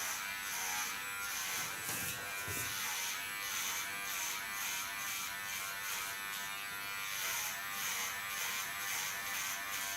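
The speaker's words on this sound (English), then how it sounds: "go in with my clipper" An electric hair clipper buzzes steadily and close while cutting a bob hairstyle at the shoulder line. The drone is continuous, with slight pulsing as the blade moves through the hair, and no talking.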